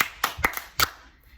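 A few sharp hand claps in a quick irregular cluster, then one more after a short pause, close and fairly quiet, during a children's action rhyme at a family storytime.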